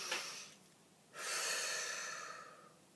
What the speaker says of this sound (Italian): Allora, facciamo un bel respiro